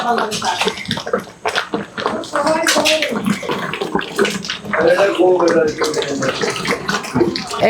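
Halim made with cow head-skin and marrow bubbles and churns in a large pot at a food stall, a steady wet gurgling with sharp pops, heard under people talking nearby.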